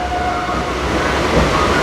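Steady rumble and rattle from inside a nearly empty passenger train running at night from Ranaghat to Tarapith, a continuous, fairly loud rolling drone with faint tonal squeal, with no talk.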